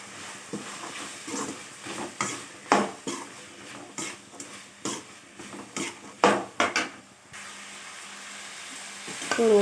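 Carrots, beans and other vegetables hit hot oil with softened tomatoes for kurma gravy, sizzling steadily while a ladle clanks and scrapes against the pan in repeated close stirs.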